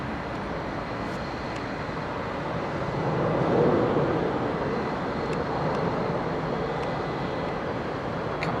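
British Airways airliner departing runway 27R at London Heathrow, a loud, close, continuous jet engine roar that swells slightly in the middle and holds steady, with no talk.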